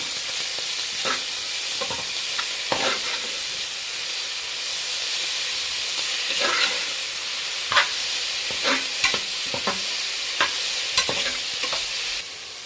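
Fenugreek greens frying in oil with onions in a pan for menthya bath, a steady loud sizzle with repeated scraping stir strokes throughout, no voices.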